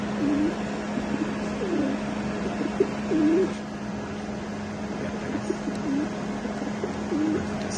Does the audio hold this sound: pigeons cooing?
yes